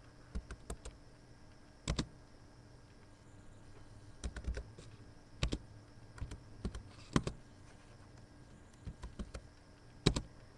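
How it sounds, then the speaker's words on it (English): Small plastic keys on a TI-83/84 graphing calculator are pressed in quick, irregular bursts of clicks with pauses between, close and fairly quiet against a faint background hum. "I simply begin typing the values and pressing enter between each one"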